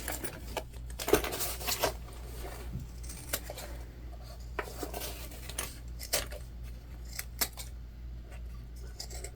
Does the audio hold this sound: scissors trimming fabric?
yes